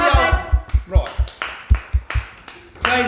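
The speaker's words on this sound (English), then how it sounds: "Everyone give a round of applause for each other" A group of children claps in a quick, uneven run of about a dozen sharp, close claps, with voices talking and a brief shout at the end.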